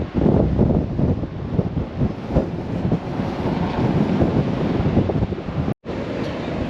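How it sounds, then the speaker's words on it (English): Blustery wind buffets the microphone on the windy Oregon coast at Lincoln City while ocean waves churn underneath, loud and gusting throughout, with a brief dropout near the end. "This is Lincoln City, Oregon, and it's windy and wavy."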